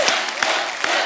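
A studio audience at a comedy show applauds and cheers for a singer, a dense steady wash of clapping from a large crowd with a few sharper peaks.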